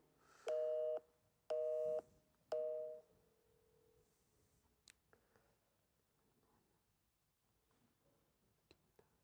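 A telephone call signal sounds as three short, evenly spaced electronic tone bursts while a number is dialed, followed by near silence with a few faint clicks.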